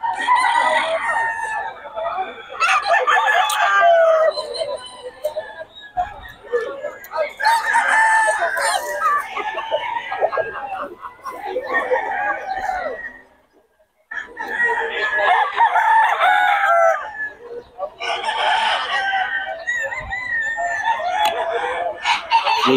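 Chickens and roosters at a poultry market, with repeated loud nearby crowing and clucking from several birds in bursts, with a short lull midway, and people talking faintly in the background.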